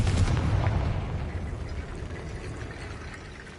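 A Confringo fire spell bursts in Hogwarts Legacy with a heavy booming blast up front that rolls off into a long, fading rumble.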